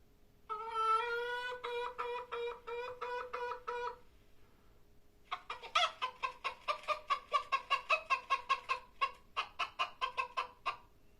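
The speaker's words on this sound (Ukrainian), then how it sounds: "А як закричала курочка?" A run of rapid, rhythmic hen clucks, close and fairly loud, a short burst, a pause, then a longer stretch of quick clucking calls.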